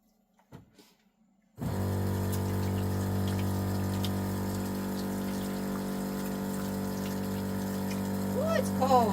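Cold water runs steadily from a tap or pump outdoors at an off-grid nature camp while someone washes their face, a continuous close hiss after a brief quiet start with a few faint stirrings.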